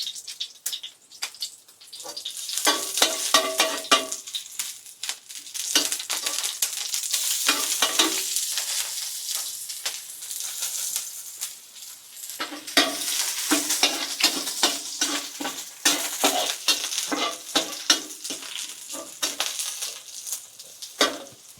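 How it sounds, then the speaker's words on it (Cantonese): Ginger stir-fried in hot oil in a wok for a home-style black bean steamed fish dish, with bursts of close sizzling and frying and scraping stirring that rise and fall over a steady hiss. "炒個香薑"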